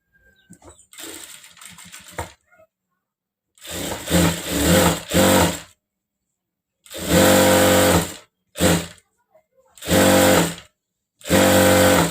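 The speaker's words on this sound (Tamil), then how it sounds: "2 சேர்த்து நம்ம ஜாயின் பண்ணிக்கிடுவோம். 2 சமமாக வச்சாச்சு. இப்போ தையல் போடுவோம்." Sewing machine joins two saree blouse fabric pieces in a series of short loud whirring bursts, about five runs separated by silent gaps, close up with no talk.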